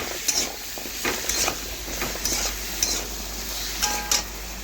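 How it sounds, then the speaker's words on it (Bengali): A pan of mixed vegetables and fish roe sizzles steadily with a constant hiss while a spatula scrapes and knocks against the metal in irregular strokes. The sound is close and there is no talk. "এখন আমি আবার একটু নাড়াচাড়া করে ভেজে নিচ্ছি।"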